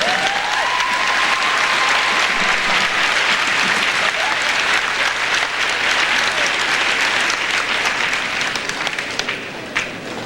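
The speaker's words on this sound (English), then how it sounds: "Join me in giving these young people a round of applause." Sustained applause from a large audience at an awards ceremony, steady and loud throughout, tapering slightly near the end.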